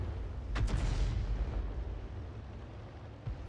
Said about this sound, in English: Oh, another roar of an explosion, and this time round it was very close to hospitals.